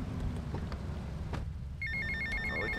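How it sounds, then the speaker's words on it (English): A cell phone rings in GTA Vice City, its repeating electronic ringtone bursts starting partway in, loud and clear over a steady game background hum. "Ooh, cell phone."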